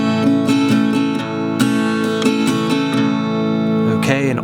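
Acoustic guitar strummed in an alternative country pattern for a song: a bass note followed by down, down, up, down, up strokes, steady and rhythmic, close and alone, ending with a brief sliding chord.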